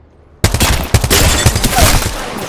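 Rapid automatic gunfire bursts out after a brief near-silence in the Apex Legends-style battle royale match while playing Wraith, loud and close with several quick volleys and impacts.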